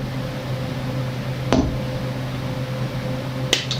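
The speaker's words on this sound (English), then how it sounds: "I think you can hear our fan in the background actually." An electric fan runs steadily in the background of a hot, humid room, a constant hum with a low tonal drone, joined by a couple of brief clicks or bumps.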